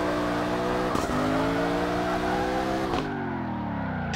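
Engine of a Ken Block Fox Body concept car with 857 horsepower, driven in CarX Drift Racing 2, revs loudly and steadily close up, rising through gears with brief shift breaks and a sharp lift-off near the end.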